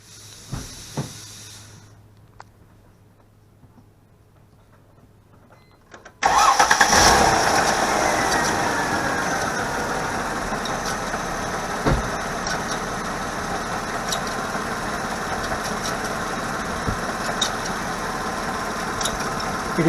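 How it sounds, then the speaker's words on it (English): A Mercedes ML350 engine cranks and catches abruptly, then settles into a steady, loud idle that continues close by, with a worn serpentine belt and fan clutch on the motor. "Let me start the engine."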